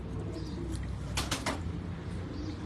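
Pigeons, including barred cross-bred birds, coo softly nearby, with a brief flutter of wings in the middle and no one speaking.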